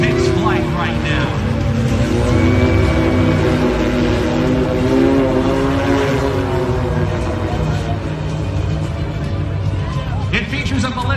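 A whirring electric drone from an eight-motor ultralight flying car lifting off at an air show fairground, a steady, loud multi-rotor tone with wavering pitch over a constant crowd and outdoor background.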